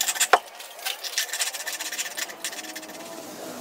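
A hacksaw blade cuts a remote control's circuit board in two, giving close, uneven rasping strokes that scrape and rub for several seconds with a sharp tap at the start and end.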